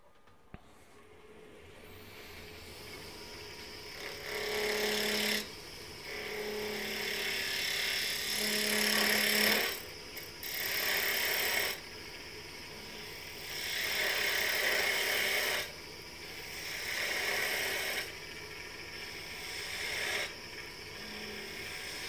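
Wood spins on a lathe at about 2,000 rpm while a spindle gouge cuts it. The steady motor whine is broken by repeated scraping passes of the tool, each rising and fading in bursts. The sound is close and there is no talking.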